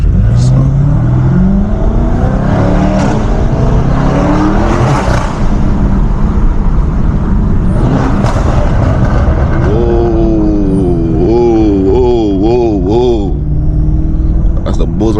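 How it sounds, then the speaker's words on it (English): A BMW M550i with a 640 hp turbocharged engine accelerates hard in repeated pulls, loud and close, rising engine drone with turbo whine and exhaust rumble, and a voice speaking over it. "I don't know if y'all can hear that turbo"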